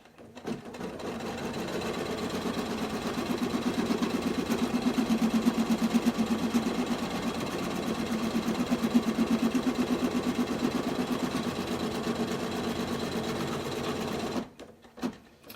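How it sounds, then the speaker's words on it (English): Sewing machine stitching vinyl applique down onto a t-shirt, one continuous close, steady whirring hum of rapid stitching that runs for most of the stretch before stopping abruptly near the end. "And so I'm going to lay down the vinyl and stitch it down."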